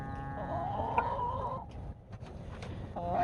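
Cream Legbar chickens and roosters clucking nearby, a few short calls over a busy farmyard background.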